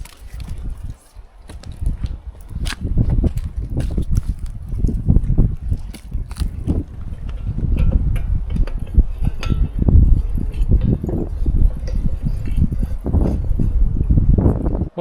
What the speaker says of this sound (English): One thing that I noticed is it is slightly windy here. I'm sure you can hear that.